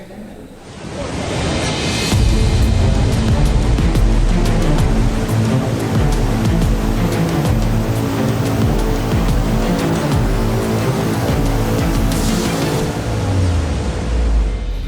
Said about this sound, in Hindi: बिहार के रोहतास में बारिश से उफान मारने लगा झरने का पानी